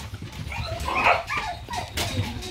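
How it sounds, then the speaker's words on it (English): Springer spaniel puppies aged seven to eight weeks whimper and yip close by, a brief cluster of high, thin cries and little barks indoors. "Come on, puppies. Come on, puppies. Come on in, puppies."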